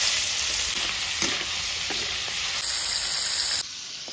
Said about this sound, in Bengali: চিংড়ি মাছটা ভাজা হয়ে গেছে